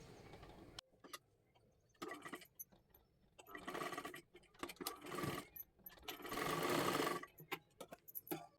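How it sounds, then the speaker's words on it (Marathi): A sewing machine stitches a hook-and-eye strip onto a child's lehenga made from a bordered sari, running in several short bursts of rapid whirring separated by brief pauses. "इथे पूर्ण आपल्याला शिलाई मारून घ्यायची आहे"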